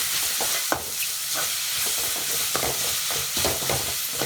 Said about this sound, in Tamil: சேர்த்துட்டு நல்லா கிளறிக்கலாம்